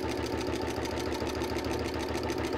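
A sewing machine fitted with a walking foot stitching parallel rows, running continuously with a fast, even mechanical chatter and low rhythmic thump, close and steady throughout with no talk.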